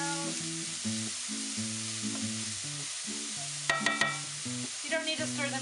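Leeks sizzle steadily in a pan while a wooden spoon stirs them in repeated short strokes, with a few brighter scraping clatters near the end, close and fairly quiet.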